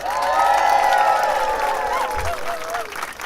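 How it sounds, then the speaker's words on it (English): Audience applause for Sandra, the Woolwich Singers choir's piano player, rising under sustained sung or held tonal notes from the performers, with a few cheers mixed into the steady clapping. "can we have a round of applause for our glamorous piano player, Sandra?"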